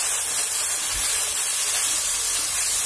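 Water splashed into a hot pan of fried onions and chilli paste, giving a loud continuous steamy hiss that holds steady for a few seconds.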